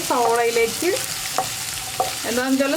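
Sliced onions are stirred in a hot pan for a Kerala-style snake gourd stir-fry, with light sizzling, occasional utensil scrapes and knocks, and a voice speaking at the start and end.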